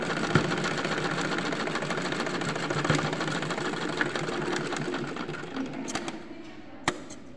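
A sewing machine runs steadily, stitching a smocking frock, its rapid needle chatter continuous for most of the stretch before slowing and stopping near the end with a couple of sharp clicks.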